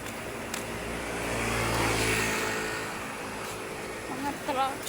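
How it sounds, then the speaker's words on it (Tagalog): Heavy trucks and other vehicles pass along a road, engine rumble swelling to a broad peak and fading as a vehicle goes by, with more traffic noise and faint background voices toward the end. "Marami, guys, mga truck."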